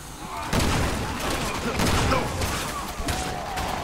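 Heavy gunfire in the video game Resident Evil 6, a dense, continuous barrage of overlapping shots and booming impacts that stays loud for the full few seconds.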